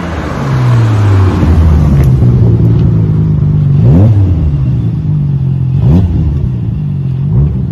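A Nissan Skyline R34 GT-R engine revs loudly and steadily, rising in pitch in several sharp bursts before settling back to a deep rumbling idle.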